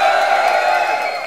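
A crowd at a live match event in Berlin cheers and whoops loudly with clapping underneath, a brief burst of enthusiastic noise that tapers slightly at the end.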